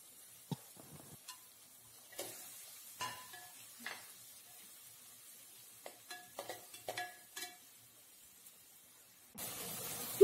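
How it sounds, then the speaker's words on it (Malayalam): Chopped carrot and beans are stirred in a pan for kichadi: sparse, quiet spatula scrapes and clicks over a faint sizzle, ending in a short louder rush of noise, with no talking. "ഇത് ചേർത്ത് നന്നായിട്ട് വഴറ്റിയെടുക്കുക."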